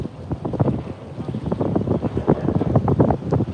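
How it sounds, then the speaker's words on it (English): Wind gusting over a fishing boat on the Gulf of Mexico during Tropical Storm Bertha, a loud, rough buffeting roar against the microphone that continues without a break. "the wind is picking up, guys"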